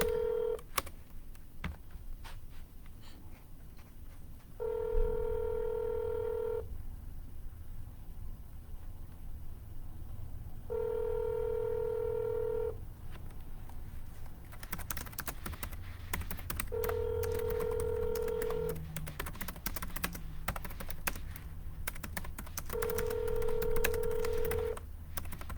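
Outgoing cold calls ringing through a phone line: four evenly spaced long ringback tones, each about two seconds, over a steady hiss, with short bursts of keypad dialing clicks and beeps between them.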